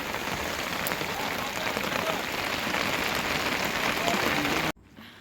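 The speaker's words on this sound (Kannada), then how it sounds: "ಸಖತ್ ಮಳೆ ಬರ್ತಾ ಇದೆ" Heavy rain pours down in a dense, steady hiss during a ride in Kashmir, with a voice talking underneath, then cuts off abruptly near the end.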